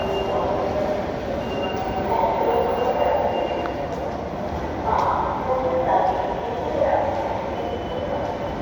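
A metro train runs nearby with a steady low rumble and intermittent faint wheel squeals, while indistinct voices murmur inside the carriage.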